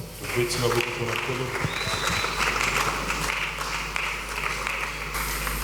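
A church congregation applauds the Lord at the end of a sermon, with sustained, dense clapping from a crowd that is mixed with voices and a musical backing that fades after the opening seconds.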